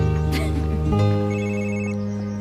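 A telephone rings with a bright electronic trill of about one second over a low steady tone, then the ringing fades, close and loud with no talk.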